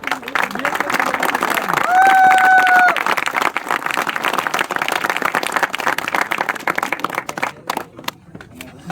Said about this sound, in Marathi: आपल्या मित्राला जोरदार टाळ्या वाजूया